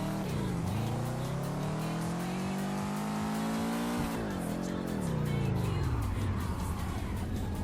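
A drifting car on a fog-covered mountain touge road in the VR racing game Touge Shakai. The engine climbs and falls in pitch through revs and shifts, with tire squeal, close and continuous.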